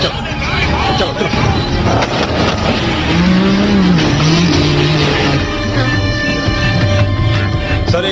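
A Hindi-dubbed Fast and Furious car chase, with engines revving hard and tires squealing in rising and falling wails over a dense roar, while a hubbub of voices carries underneath.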